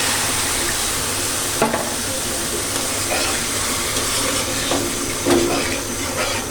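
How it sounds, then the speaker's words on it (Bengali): Spice paste with salt frying and being stirred in a pan: a steady broad sizzle with a few scraping stir strokes, close and fairly loud, no talking. "লবণ, মশলাটাকে একটু কষিয়ে নিই।"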